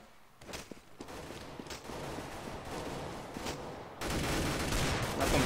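Rapid gunfire in Counter-Strike, bursts of shots under constant background noise, growing into a denser, louder volley near the end.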